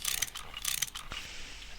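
In modded Minecraft, a wrench takes apart machines with bursts of rapid ratcheting clicks, two clusters in quick succession followed by a single thud and a lingering faint whir, no talking.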